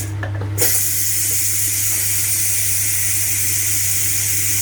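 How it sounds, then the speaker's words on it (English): Ninja Foodi pressure cooker venting steam in a quick release, a loud, steady hiss that starts with a brief burst and then holds constant, with no talking. "I have to do a quick release of the steam"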